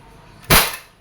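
A single sharp, loud pop from an Umarex Glock 17 Gen 5 CO2-powered steel BB airgun pistol being fired once, with a brief fading tail and no talking.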